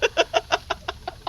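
A chicken clucks in a quick, even series of about eight short calls, close and fairly loud, with no talking.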